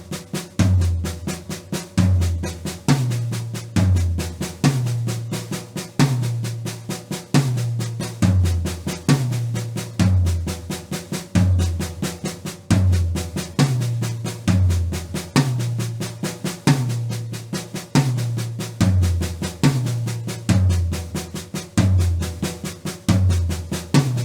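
A drumset plays paradiddle-diddles slowly and steadily, with accented strokes landing on the floor toms. Deep tom booms repeat in a regular pattern under quicker lighter strokes, close and loud for the whole stretch, with no talking.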